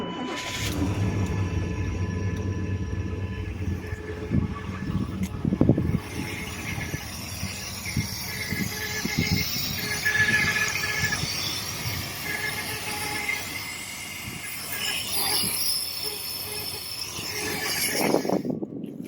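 A 1994 Chevy 1500 with a 350 small-block V8 and a bad misfire runs with an uneven, rough rumble, loud and close, with occasional louder surges and clatters.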